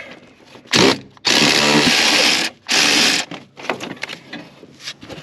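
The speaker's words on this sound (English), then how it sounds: "That's why the ratchet was going back." A ratchet works a bolt on a 1991 S10 Blazer with loud, close, buzzing tool bursts of about a second each, separated by short gaps and followed by lighter clanks and rattles.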